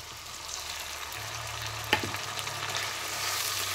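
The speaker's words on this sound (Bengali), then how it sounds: "আবার কিছুক্ষণ নেড়ে চেড়ে ভেজে নেব" Ground spice paste frying in hot oil with browned onions, a steady broadband sizzle with a few scraping stir strokes near the middle, close and moderately loud throughout.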